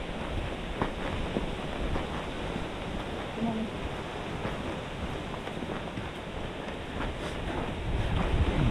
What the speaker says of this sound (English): It is a busy trail, and the wind has picked up again.